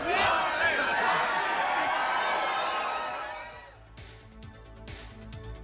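Large crowd of over 9,000 basketball fans roaring and cheering at Phoenix Sky Harbor Airport for the Suns, a loud sustained roar of many voices that fades after a few seconds, leaving scattered whoops and applause.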